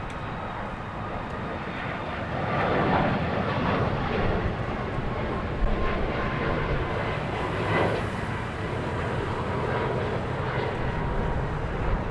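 An Airbus A321 airliner departs LAX with a continuous, loud, broad jet-engine roar that swells slightly and holds steady throughout, with no talk.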